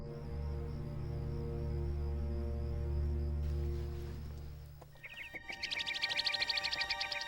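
A small pet songbird in a period samurai drama sings bright, high chirps over a low sustained orchestral drone, then bursts into rapid trills near the end, clear and close with no talking.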